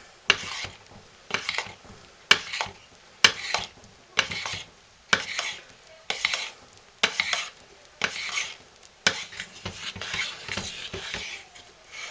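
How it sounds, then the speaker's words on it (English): Oats are stirred by hand into hot process goat milk soap, a close, rhythmic series of about a dozen scraping, swishing strokes against a pot with short pauses between them. No voices are heard. "I'm going to stir the oats into the chocolate one"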